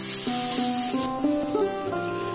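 Spice paste (masala) fries in oil for a green jackfruit and prawn curry, giving a steady close hiss as it is stirred. Tuneful music plays underneath throughout.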